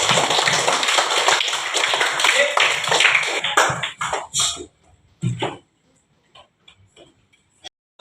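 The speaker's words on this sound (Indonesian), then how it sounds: "Ya, tepuk tangan." A classroom of children claps together, a loud, dense patter that breaks into a few scattered claps and then trails off into sparse taps and near silence.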